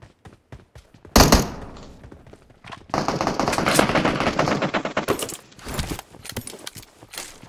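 Mini 14 rifle fire in a mobile shooter game, with sharp cracks and short rapid bursts, a loud burst near the one-second mark, and a denser stretch of shots in the middle, mixed with scattered thuds.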